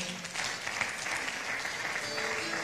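A church congregation applauds together to acclaim the Lord, a steady, dense wash of clapping that fills the whole moment without a break.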